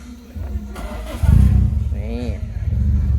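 The engine of a Toyota AE92 car rises from idle into a short rev and settles back to a throaty idle, close and loud, while people talk nearby.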